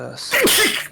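A single sharp sneeze bursts out close and loud in a quiet room during a tabletop role-playing game session, rising and then trailing off in about half a second.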